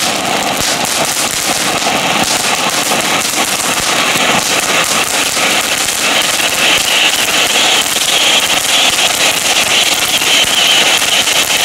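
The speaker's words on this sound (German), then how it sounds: "Wir haben auf jeden Fall von Jorge hier zwei kleine Vulkane." Two small volcano fountain fireworks crackle and hiss continuously at New Year, a dense, steady spray of sputtering sound at a constant loud level with no speech over it.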